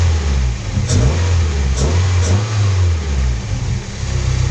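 A Nissan 240SX S14's engine runs loud and close, with a low rumbling note that swells and falls through a few throttle blips and revs, no one speaking over it.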